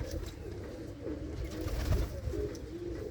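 A loft full of domestic racing pigeons cooing steadily, with repeated low throaty coos overlapping one another close to the listener, no voices.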